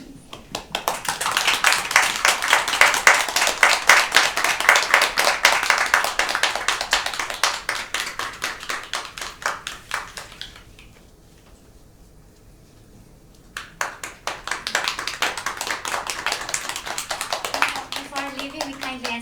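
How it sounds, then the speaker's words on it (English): A live audience at an inbound-tourism storytelling event about Senju's seven mysteries gives performers a warm round of applause, dense rhythmic clapping that fades to near silence, then resumes strongly before a voice begins speaking. "Let's give them a warm round of applause."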